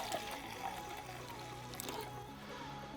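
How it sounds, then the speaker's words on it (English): Purplish-blue polymer liquid for headlight restoration pours steadily into a cup, a close, continuous trickle and splash with no talking. "Okay, so basically we have the liquid right here. It's a purplish blue. I'm gonna pour some in the cup."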